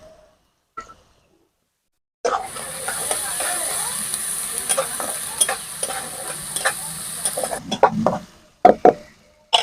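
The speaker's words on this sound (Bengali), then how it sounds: "এবারে এর মধ্যে আমি কাজু আর কিশমিশ গুলোকে দিয়ে দেবো এই তেলের মধ্যে" Cashews and raisins hit hot refined white oil with a sudden loud sizzle that crackles steadily for several seconds, with stirring clinks and scrapes near the end.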